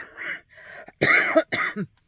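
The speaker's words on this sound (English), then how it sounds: "Still dealing with this pesky cough." Several hoarse coughs in short bursts, close and fairly loud, separated by brief pauses.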